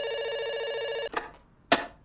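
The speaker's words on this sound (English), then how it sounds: "it's just making the phone in the room with me ring" A telephone rings in the room in the video game Dr. Langeskov, one sustained electronic trill that stops abruptly, followed by two short sharp clicks.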